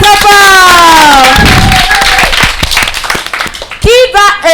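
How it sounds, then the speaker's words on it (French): Children and an audience at a kindergarten event in the Katiola diocese clap and cheer loudly after a voice stops, sharp claps and shouts mixing together, then a voice rises over the noise near the end. "On l'applaudit très très fort."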